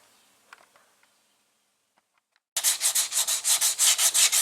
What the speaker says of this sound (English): I'm just using my hand, the sandpaper in my hand, to get around the curves and stuff here